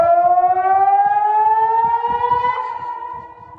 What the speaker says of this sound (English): The town siren had been triggered.